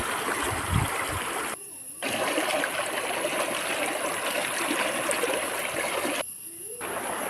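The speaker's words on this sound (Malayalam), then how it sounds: "കണ്ടില്ലേ പുഴ." A river runs in a steady broadband rush, close and continuous, with two short dips where the flow sound drops away briefly.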